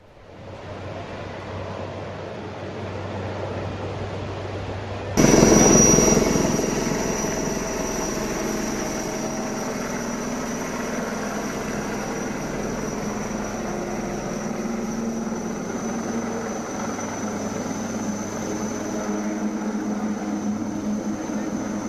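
A helicopter searching over flooded land near the Munawar river in Nowshera, Jammu and Kashmir, produces a loud continuous rotor and engine drone that swells abruptly and then holds steady.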